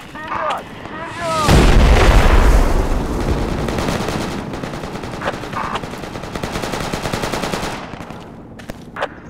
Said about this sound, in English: I hear gunfire on the marker.